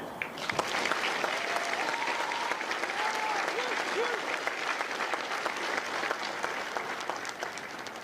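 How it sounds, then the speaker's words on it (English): An audience at a Marine Corps recruit graduation ceremony in San Diego applauds the recruits' families, a long, dense wash of clapping from a large crowd, somewhat distant, with a few faint voices mixed in. "Ladies and gentlemen, would you please join me in a round of applause for the families of hotel companies"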